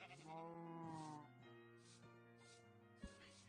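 A Minecraft sheep gives a clear wavering bleat up close, followed by quieter game ambience with a few soft clicks and a brief thump.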